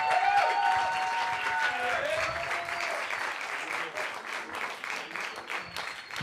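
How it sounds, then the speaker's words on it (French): Audience applause greets two finalists, Fabien and Maxime, called onstage for a semi-final of a French oratory joust; steady dense clapping holds throughout, with a faint host voice briefly audible over it. "applaudissez-les fort"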